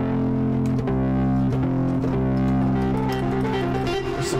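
Heavily distorted fuzz tone from a track in FL Studio, a thick sustained buzzing chord with several note changes, loud and steady with no talking.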